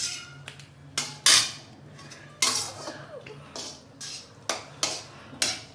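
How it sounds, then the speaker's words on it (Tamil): A utensil stirs vegetables in coconut milk in a cooking pot for a Nellai-style sodhi kulambu, giving sharp clinks and knocks against the pot at irregular intervals over a low steady hum, with faint voice traces. "இப்போ அந்த மூணாவது பாலை ஊற்றி இதில் இந்த காயை வந்து இந்த மாதிரி லைட்டாக கிளறி கொடுத்து வேக வைக்க போகிறேன்"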